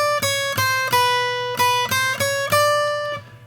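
An acoustic guitar plays a left-hand single-note exercise picked only on upstrokes, giving about eight crisp, close notes at a steady moderate pace that fade out at the end.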